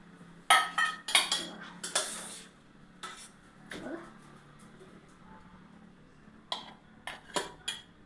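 A spoon repeatedly clinks and scrapes against a metal pot while food colour is mixed into heated watermelon rind, in short irregular bursts with quiet gaps, close to the listener.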